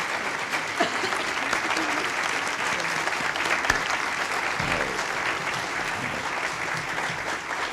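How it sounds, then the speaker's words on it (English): Dense, steady applause from a large crowd greets Mother Teresa alongside the President and Mrs. Reagan, continuing evenly throughout with a few faint voices mixed in beneath the clapping. "That applause is for you, not me."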